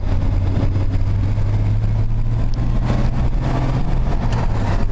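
A car engine pulls hard through the upper gears, a loud, steady low drone with road rumble filling the cabin, the pitch sagging briefly at each shift before climbing again.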